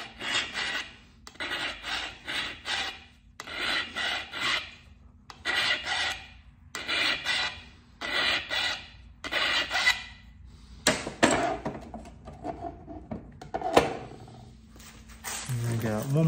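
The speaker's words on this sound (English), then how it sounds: "Not my abrader, but sharpen my copper." Copper flint-knapping tool being sharpened on an abrader: a series of about eight rhythmic, close raspy strokes in short bursts, with a few scrapes and light handling noise afterward.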